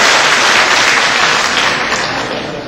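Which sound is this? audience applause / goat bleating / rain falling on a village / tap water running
audience applause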